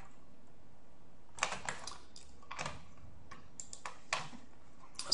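Bursts of quick clicky keystrokes on a computer keyboard come in short clusters separated by pauses, close and fairly quiet, with no talking.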